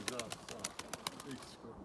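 A racing pigeon enters its loft with quick bursts of wing flapping and soft cooing, close and fairly loud, alongside bird sounds and brief voices in Turkish.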